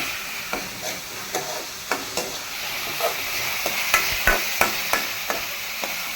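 Broccoli, mushroom and paneer fry stirred in a pan, a spatula scraping and tapping in an irregular rhythm over a steady sizzle of frying, close and alone with no talk.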